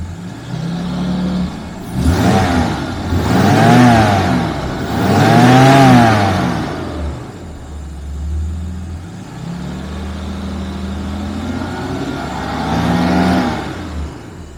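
A car engine that has just finished a winter warm-up revs up several times in rising and falling swells, then settles to a smooth, even idle, loud and close.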